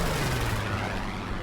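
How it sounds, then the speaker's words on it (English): Rapid cannon fire from an FW-190 A5/U12 fighter in War Thunder, a dense, loud, continuous burst of gunfire filling the whole short stretch with no pauses and no talk. "Using the last of my cannon ammunition, I blow the Mustang out of the sky"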